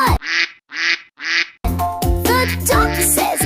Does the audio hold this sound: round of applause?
no